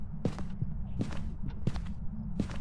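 Ghost footsteps in the Phasmophobia horror game, a series of about six heavy, evenly paced thuds over a constant low hum.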